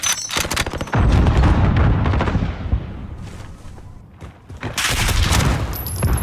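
Gunfire from a Call of Duty esports match between Chicago Huntsmen and Atlanta FaZe: loud, dense bursts of shots and booms in rapid volleys, easing briefly midway before another loud burst.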